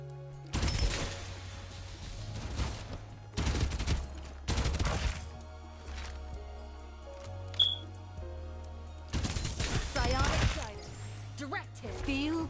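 Bursts of gunfire from the shooter game Farlight 84, several rapid volleys spread across the stretch, loud and close, alternating with a steady game soundtrack and short gaps.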